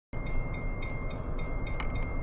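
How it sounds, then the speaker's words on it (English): A train rumbles past steadily and fairly close, a broad continuous roar of rail cars with faint rhythmic clicks of wheels over joints, no voices. "And there it goes, another train."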